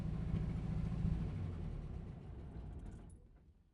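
A ZAZ-968A Zaporozhets engine rumbles at idle, close and steady, then winds down and cuts out, leaving near silence at the end.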